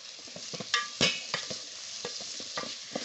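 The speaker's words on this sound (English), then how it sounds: "I'm gonna give it a stir." A spoon stirs a bubbling yellow bean stew with tomatoes, turmeric and salt in a pot, scraping and clacking against the sides over a soft sizzle.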